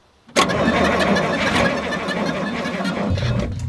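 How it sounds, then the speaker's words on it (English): An old diesel crane engine cranks on power from a lithium jump starter, starting abruptly and churning loudly in a steady, labored roar for several seconds, close up. "Well, it turns the engine, though very slowly."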